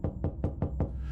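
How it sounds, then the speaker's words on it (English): Five quick, evenly spaced knocks on a door, sharp and fairly close, with nothing else heard around them. "we heard a knock at the door"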